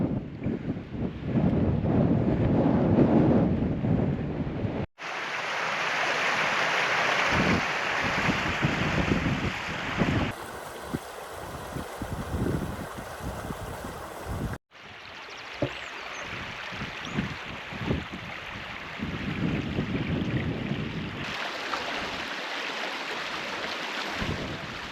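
Steady wind buffets the microphone outdoors at night in the Forest of Bowland, with a constant broadband rush and scattered gusty thumps, interrupted by brief cuts; rain-like patter blends into the noise.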